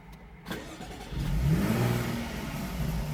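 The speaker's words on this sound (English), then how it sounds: "Makes a lovely noise on start up." A supercharged 3.0 V6 in a Jaguar F-Type S catches after a brief crank and flares into a loud rising rev, then settles into a rumbling high idle, heard close from the cabin without talk.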